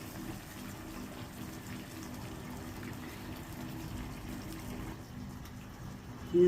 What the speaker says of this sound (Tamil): ஆமாம், அதுக்கு தான் இப்போ தண்ணி ஊற்றுறேன்.